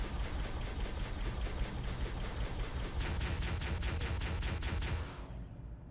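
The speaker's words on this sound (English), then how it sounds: "I'm shooting them" Rapid automatic gunfire in Halo: Combat Evolved rattles steadily for about five seconds, loud and continuous with a faster pulsing stretch toward the end, then drops away abruptly.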